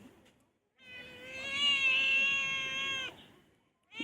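A cat lets out one long, drawn-out meow lasting about two seconds, close and fairly loud, bracketed by short silences with a faint start of another sound at the end.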